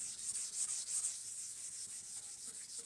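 A straight sanding block rubbed back and forth across a soaped, contoured surface, a steady, soft, close-up scraping hiss in rhythmic strokes, with no talking.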